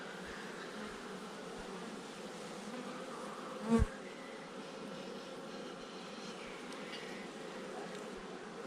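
Steady, dense buzzing of many honeybees close by around an open hive, with a brief louder thump partway through.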